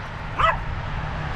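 Dogs at a campground give one short, sharp bark or yip, close and loud, over a steady low background hum.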